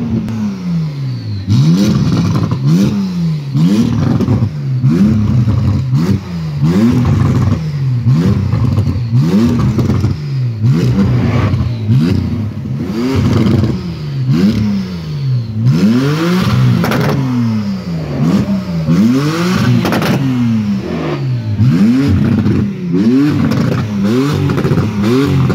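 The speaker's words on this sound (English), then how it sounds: "This is probably the loudest 911" A loud Porsche 911 at a car show blips its engine repeatedly in quick, rhythmic revs that rise and fall sharply. The revs are close and dominant, with faint crowd noise behind them.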